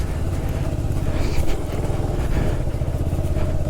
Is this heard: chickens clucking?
no